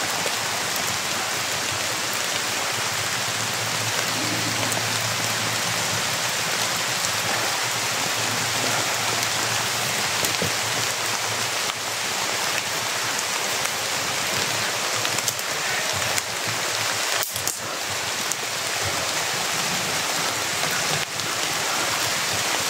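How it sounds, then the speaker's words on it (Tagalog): Heavy rain pours steadily, a dense, constant hiss of drops on surfaces with no letup. "Malakas po yung ulan mga tol."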